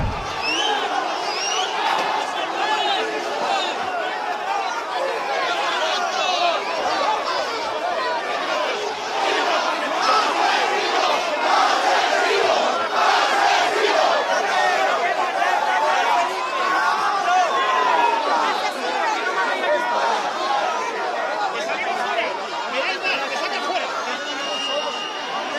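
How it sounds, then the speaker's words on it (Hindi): An angry crowd in a flood-hit area of Spain shouts at the king and queen, a loud, dense mass of overlapping yelling and chatter that stays steady for about twenty-five seconds. "गुस्साई भीड़ ने उनके ऊपर हमला किया"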